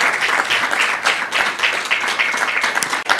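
A conference audience gives a warm round of applause for a panelist at a communications mentorship event and book launch, loud continuous clapping filling the room.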